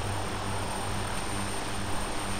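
Unbroken helicopter rotor and engine roar in the game 40 Commando, from aboard one chopper with a second following behind, loud, close and steady with a low throb.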